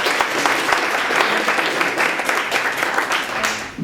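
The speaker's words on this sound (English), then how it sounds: "Can we get a round of applause just for the judges here today?" Loud, lively applause from an audience honoring judges at a hackathon, many hands clapping briskly and close, with sharp individual claps standing out over a steady roar, no talk.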